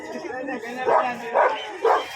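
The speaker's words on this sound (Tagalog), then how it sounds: "Okay, ito na yung German Shepherd." A German Shepherd at a pet market gives three loud, evenly spaced barks close by, with market chatter and voices underneath.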